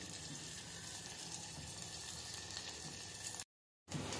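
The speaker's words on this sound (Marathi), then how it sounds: "आता याला चांगलं लाल येईपर्यंत फ्राय करायचं।" Ingredients for matka khichdi frying in a pan give a faint, even sizzle that drops out briefly near the end, with no talking.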